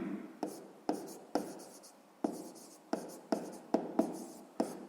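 A pen writes on paper while a sixth-grade math exercise is worked through, giving a steady scratching run broken by sharp taps and strokes, close and fairly quiet, with no voices.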